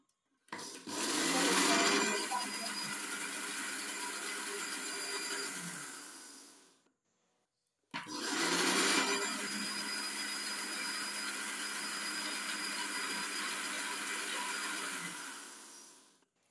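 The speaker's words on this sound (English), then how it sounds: "I put my egg yolk into the blender." An electric blender whirs loudly through two long runs of about six and eight seconds with a short pause between, mixing egg yolk, sugar and a pinch of salt for homemade salad cream.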